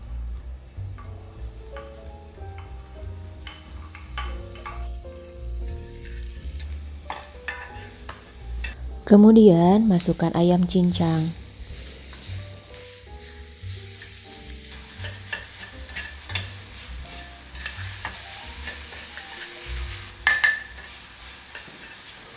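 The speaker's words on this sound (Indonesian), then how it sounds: "Masukkan jahe, bawang, dan cabai merah, lalu tumis hingga harum" Ginger, garlic and red chili sizzle and crackle in hot oil while being stirred, with soft background music and a brief spoken line partway through.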